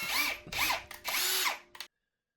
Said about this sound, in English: you're just going to drill straight through that hole